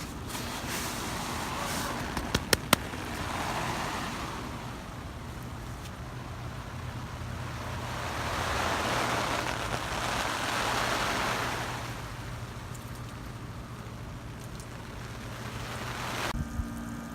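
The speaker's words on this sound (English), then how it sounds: "you can hear water underneath it, but it's dry." Water pours and patters onto the fabric of a SnugPak Cave tent during a water test, heard from underneath as a soft, continuous rushing hiss that swells and fades in waves over a low steady hum.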